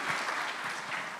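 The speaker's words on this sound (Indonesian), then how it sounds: "Kita tepuk tangan sekali lagi." Congregation applause at a church service, a dense, steady wash of many hands clapping together, fairly loud and sustained throughout.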